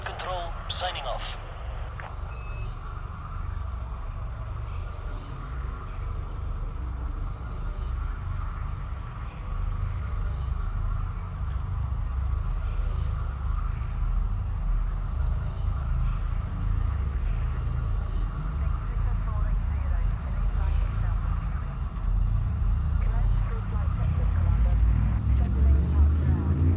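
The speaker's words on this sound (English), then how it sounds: "Frameshift drive charging." Frame shift drive charging in Elite Dangerous, a steady low engine hum and drone that slowly swells and builds over several seconds while a voice speaks over it.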